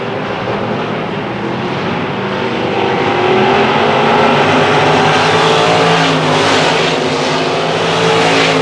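Several dirt track race cars roar past in a heat race, engines loud and continuous, revving and swelling as the pack battles closely down the stretch.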